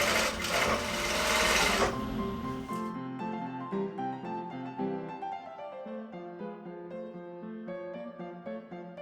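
A sewing machine runs a steady stitching burst on a waistband of fabric bloomers, fairly close and loud, with a brief rougher whir at the start before the even mechanical hum settles in.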